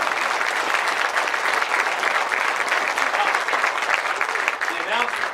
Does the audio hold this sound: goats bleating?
no